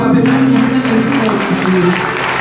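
A congregation at a Sunday worship service applauds with loud, steady clapping while a voice rises above the crowd with sustained, tone-like speech.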